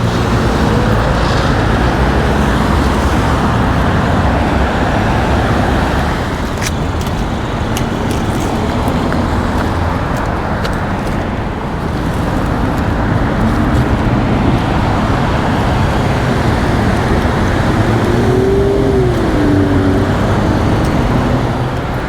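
Loud, continuous roar of vehicles at the 110 freeway off-ramp in Los Angeles, a dense wash of engine and tire noise that stays close and unbroken, with a few passing swells and no talk.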